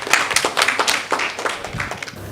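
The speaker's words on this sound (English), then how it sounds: "Applause for this group." A small audience gives a short burst of uneven hand clapping, close and moderately loud, in a classroom research-project group-work session after a student group's presentation.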